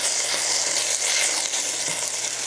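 Beef and broccoli stir-fry sizzles steadily in a hot pan, a dense, close, continuous hiss of frying with no talk over it.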